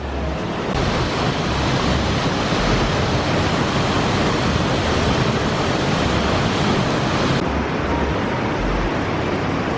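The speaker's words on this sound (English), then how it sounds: "just really nice waterfalls" A waterfall roars steadily and loudly without a break, a dense broadband wash of falling water, with no voices.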